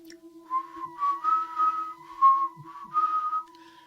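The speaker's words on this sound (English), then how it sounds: "he hears this whistling, like coming from outside of the house" A lone eerie whistled melody with a steady tonal hum beneath it, rising and falling in several wavering phrases, soft and clear, with no voices.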